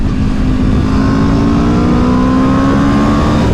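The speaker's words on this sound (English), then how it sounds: "that's a seamless auto blip right there" A 2023 Aprilia RSV4 sport motorcycle engine revs hard and close through a gear change with an automatic blip, rising smoothly in pitch and staying loud for several seconds.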